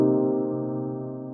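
A dry electronic chillhop piano sustains a single held chord with rich, steady harmonics, played clean without any lo-fi processing and slowly decaying alone.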